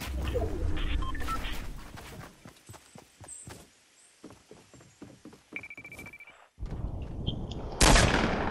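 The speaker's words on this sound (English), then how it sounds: "Why is our teammate randomly shooting?" Rapid bursts of teammate gunfire in a video game, sharp cracks spaced out over several seconds and moderately close, with other game effects and a tone in between.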